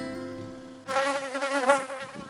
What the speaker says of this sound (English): I just got stung on the face by a bee